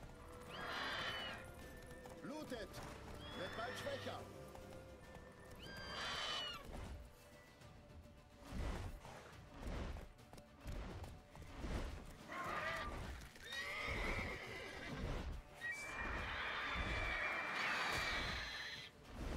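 A horse whinnies several times over the rhythmic clip-clop of hooves in The Witcher 3, with scattered game effects in between.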